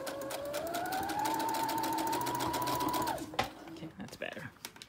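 A sewing machine stitches a kids cape, giving a steady whirring motor hum whose pitch climbs and holds for about three seconds before stopping, followed by a few soft mechanical clicks.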